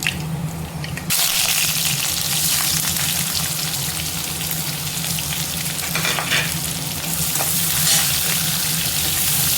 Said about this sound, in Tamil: வடை சுட்ட எண்ணெயை கொஞ்சம் ஊற்றியாச்சு. கடுகு சேர்த்துக்கலாம். கடுகு, கொஞ்சமாக சோம்பு,